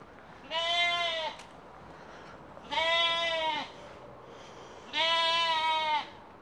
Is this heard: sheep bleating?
yes